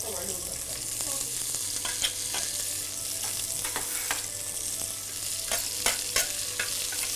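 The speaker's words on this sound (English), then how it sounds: "the onion has to be cooked very hard and at very high temperature for a little while" Chopped onion fries hard in hot olive oil for a yakhni pulao, a steady bright sizzle broken by repeated sharp scrapes and clicks of a spoon stirring the pan.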